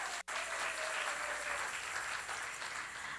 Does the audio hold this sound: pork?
no